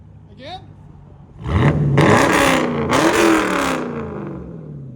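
Up close, a Dodge Challenger Scat Pack 392 with a 6.4L HEMI V8, stick shift and aftermarket exhaust roars through two hard, loud revs that rise and hang before easing slightly. A short voice sound comes just before the engine starts.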